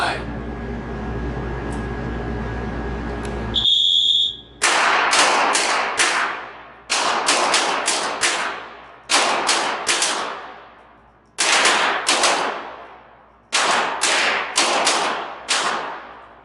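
A bullseye shooting match with .22 pistols fires in bursts of sharp cracks, several quick shots per string with ringing decay and pauses between strings, after a stretch of background hum.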